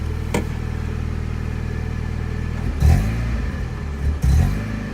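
A cold 1990 Mazda Miata engine idles roughly with a stumbling hesitation, its low rumble broken by two brief revs near the end.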